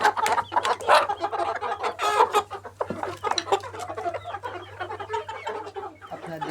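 Fayoumi or tiger laying hens cluck and chatter in a dense, continuous flock noise close by, with overlapping squawks and a steady low hum beneath.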